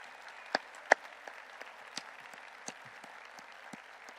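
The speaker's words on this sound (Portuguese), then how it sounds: "Será que nós podemos dar uma grande salva de palmas aos anfitriões?" At a church leadership conference, a congregation gives scattered, sparse hand claps for the hosts, a few sharp louder claps standing out among faint, spread-out ones in a quiet hall.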